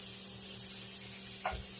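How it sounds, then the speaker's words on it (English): Steady, quiet sizzling of apples frying in a skillet, a continuous hiss with one brief scrape near the end. "I got some apples frying here in the skillet,"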